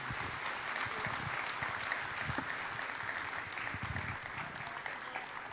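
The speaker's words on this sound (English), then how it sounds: "Can we have another round of applause," Sustained audience applause at a launch ceremony hall, steady dense clapping from a crowd throughout, moderately loud with no talk over it.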